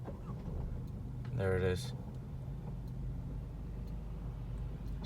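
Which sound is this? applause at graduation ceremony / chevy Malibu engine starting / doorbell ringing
chevy Malibu engine starting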